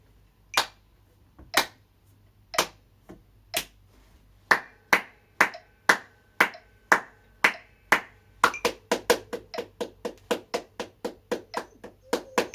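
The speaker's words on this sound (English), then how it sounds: "Just the clapping, no counting." Family members clap a rhythm together in eighths and then sixteenths: sharp, evenly spaced claps that start steady and sparse, then grow faster and denser toward the end, close and alone with no talking.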